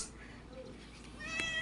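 A cat meows close by, a short cry rising at the end over a low background hum, with faint voices in the room.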